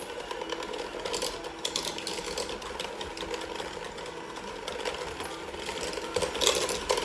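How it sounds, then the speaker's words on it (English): An electric mixer creams peanut butter cookie dough for peanut butter chocolate chip cookies, giving a steady, close mechanical whirring with a rapid rattling texture and no talk. "And you're going to mix this until it's creamy."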